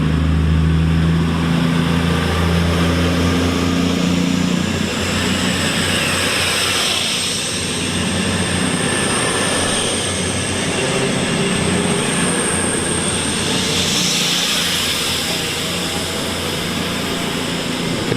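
A Class 221 Voyager diesel train pulls away from Tamworth station with a loud, sustained engine roar and a high whine, steady and close throughout, with no talking.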